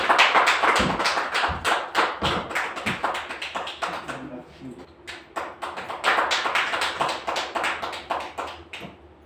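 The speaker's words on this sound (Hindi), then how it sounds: "जोरदार तालियों से स्वागत करें इनका" A poetry gathering audience claps to welcome a poet, a close, uneven burst of hand claps that thins out midway and then swells again before tapering.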